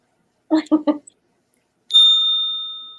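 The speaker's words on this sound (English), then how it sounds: "We have a bell." A small hand bell gives one clear, bright ding that rings out and slowly fades, following a few short spoken words.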